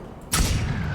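A rocket launcher fires in a French video game match, a sudden loud blast that bursts in after a quiet moment and trails off into a rumbling tail.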